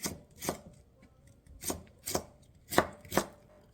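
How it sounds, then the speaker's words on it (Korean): A knife chops radish into fine julienne strips on a cutting board, sounding as a handful of separate, sharp close taps at uneven intervals with quiet pauses between them. "가지런히 쭉 펼쳐서 놓고 썰으면 편하니까 가지런히 놓고 채를 썰어줍니다"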